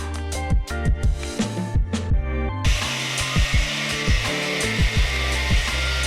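A bar is cut for a hurricane hinge on a teardrop camper build: repeated close cutting strokes with a tool, then a steady loud whirring buzz that runs to the end.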